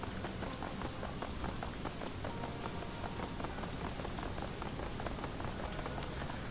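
Steady rain pours on hard surfaces in the Shadowrun Hong Kong video game, a dense continuous patter with scattered brighter drips, constant and fairly loud with no talk.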